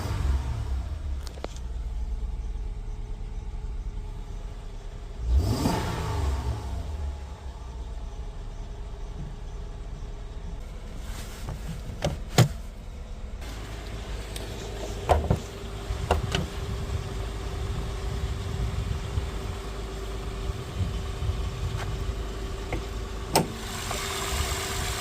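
A 2012 Acura TL with a shift solenoid fault idles steadily up close, a low engine drone with faint, sparse ticks and a few sharper clicks over it.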